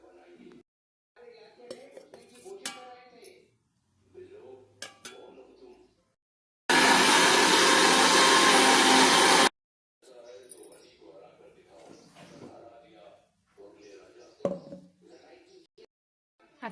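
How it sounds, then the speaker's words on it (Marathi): A mixer grinder whirs loudly for about three seconds, grinding roasted flour for karanji filling in one steady burst. People talk quietly before and after it. "आता मिक्सरमधून हे एकदा फिरून घेऊया"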